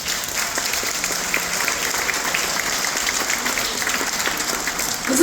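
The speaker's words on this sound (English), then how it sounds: "Let's give them a big round of applause too," Passengers at a veteran ceremony aboard a Royal Caribbean cruise ship break into sustained applause, a broad even wash of clapping that holds throughout and swells slightly at the end.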